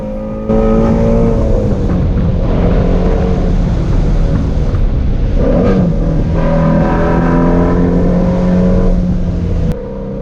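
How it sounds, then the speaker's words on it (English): A Ford Shelby GT350R's exhaust in loud mode rumbles and revs steadily at close range, a deep continuous roar with rising and falling engine pitch throughout. "it turns on the loud mode exhaust"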